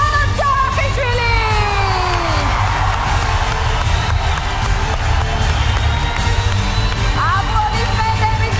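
A television talent show audience in Georgia cheers, whoops and yells loudly and continuously, with a dense crowd roar filling the whole stretch and scattered shouts rising above it.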